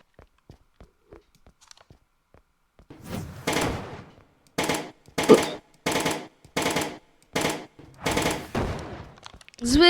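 Rapid bursts of automatic gunfire in the Brick Rigs video game, several loud volleys separated by short pauses after a few faint clicks at the start.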